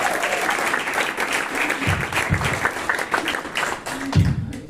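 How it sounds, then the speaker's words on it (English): Workshop participants in a music production session applaud Marwan's beat with steady, moderately loud clapping and a few thumps and murmurs mixed in. "round of applause for Marwan"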